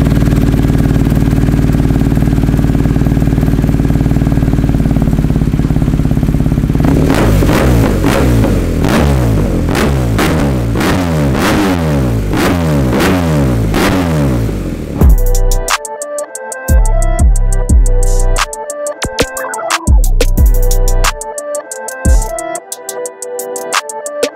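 A BMW GS1250 motorcycle with an Akrapovic exhaust idles with a loud, steady low thrum, then builds into rhythmic throttle blips. Near the end, sharp popping revs fire close by without talk.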